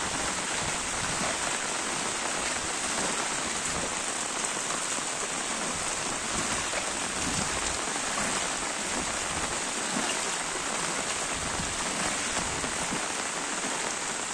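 Steady, heavy monsoon rain pours over a village, a dense continuous hiss of drops on surfaces that stays loud and even throughout with no voices.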